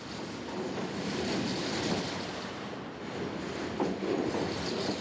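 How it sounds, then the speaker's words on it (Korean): A train rolls past on rails with a continuous rumbling roar and faint rhythmic clatter, loud and steady at close range, and no one speaks over it. "일본인들이 그 전철 소리를 가탕고통 그렇게 표현해요"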